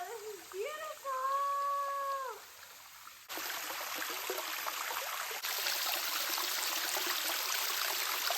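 Small streams of water rush and trickle steadily in the open after a short spoken voice at the start, the flow loud and close, filling the rest of the clip.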